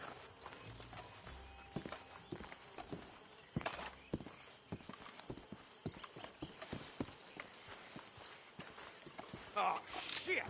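Horses clip-clop at a walk in Red Dead Redemption 2, steady hoof beats close by with occasional louder steps and a brief snort, set under ambient game sound and some voices.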